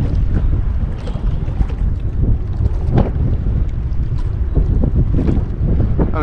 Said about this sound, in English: And boy, does it get windy and chilly out here.